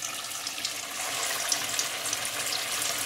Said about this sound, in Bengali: তেল গরম হয়ে গেছে, একে একে এই কোফতাগুলো ছেড়ে ভেজে নিতে হবে।